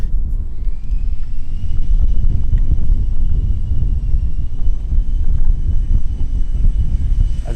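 Engines of a scale model Airbus A380 roar loudly and steadily at takeoff from a grass strip, a continuous close rumble with a thin high whine above it and no talk.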